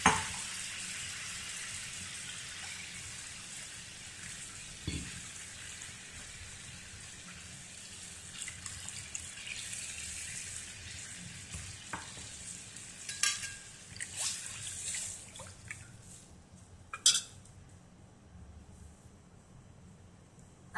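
Water hits a frying green chilli masala for Maharashtrian katachi amti, setting off a soft, steady sizzle and hiss that carries on at low volume, with a few clinks of a utensil near the end.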